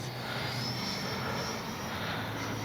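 Small FMS 80mm F-86 Sabre RC jet with landing gear and flaps down making a dirty fly-by on a maiden flight, a steady broadband ducted-fan whoosh with a high whine, continuous and fairly loud throughout.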